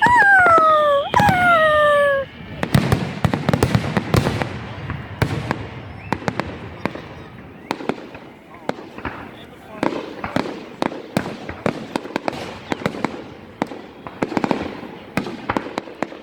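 Loud Canada Day fireworks exploding at a beach, sharp booms and crackling bursts in an irregular series, close and forceful, with people whooping and shouting between blasts.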